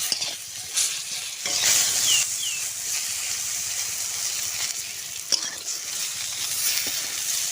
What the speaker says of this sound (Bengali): বেগুনটাও সুন্দর করে ভেজে নেব।